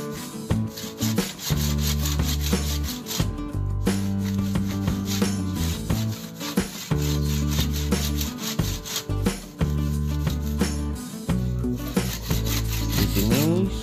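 A hand saw cuts through the fibrous husk of a coconut being split in half for a twin coconut bonsai, giving a steady, close rasping of repeated strokes with brief pauses and no talking.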